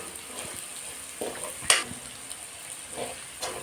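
Spices for a tuna fish pickle frying with asafoetida powder in a pan, a soft steady sizzle under occasional scrapes and clinks as they are stirred, one sharper tap midway.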